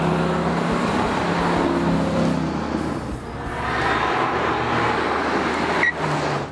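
A Ford Mustang Boss 302 heard from the cabin while driving, its engine a steady moderate hum under road and wind noise, easing off midway before building again, with no talk.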